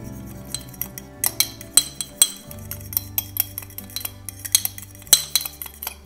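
Sauce ingredients are stirred in a bowl with a utensil, giving bright, irregular clinks and taps against the bowl over a low background hum, close and fairly loud, with no voices.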